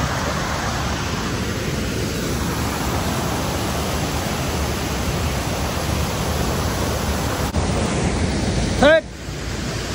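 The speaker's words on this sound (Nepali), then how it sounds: "कस्तो ठुलो खोला" A large swollen river at Sundarijal rushes in a loud, unbroken roar of broadband water noise, with wind buffeting the microphone and a brief voice near the end.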